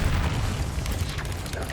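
Confringo fire spell cast in Hogwarts Legacy on PS5, heard as a continuous booming, rumbling blast with a heavy low end and crackling bursts layered on top, loud and sustained throughout the short stretch.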